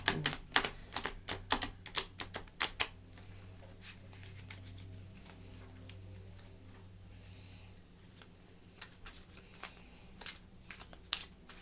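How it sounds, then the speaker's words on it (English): Tarot cards are shuffled clumsily by hand, with a run of sharp, close card slaps and riffles at the start, a quieter stretch, then more scattered card snaps toward the end. "Not the greatest at shuffling."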